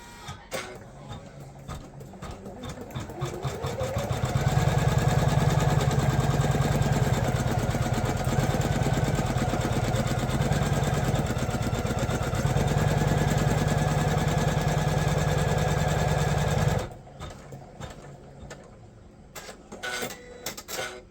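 An embroidery machine sews a placement stitch on stabilizer for a wallet tab, a steady rapid mechanical whir that holds for about twelve seconds at moderate loudness, with quieter handling noises before and after.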